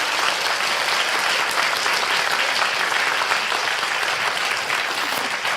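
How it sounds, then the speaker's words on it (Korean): An audience at a Korean book launch celebration claps steadily and loudly for several seconds, a dense, even wash of applause from many hands close by, with no one speaking. "좋은 말씀 나눠주신 한실님께 다시 한번 크게 손뼉 쳐주세요"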